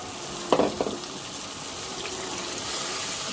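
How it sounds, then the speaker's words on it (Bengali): Spices dropped into a pan of lightly browned onions for a Bangladeshi Eid dish, a sharp burst of sizzling at first, then a steady hiss of frying with faint stirring scrapes. "পেঁয়াজগুলো হালকা ব্রাউন কালার হয়ে গেছে এখন আমি মশলাগুলো"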